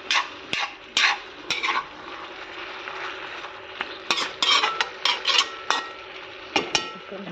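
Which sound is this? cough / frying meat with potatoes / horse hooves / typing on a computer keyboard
frying meat with potatoes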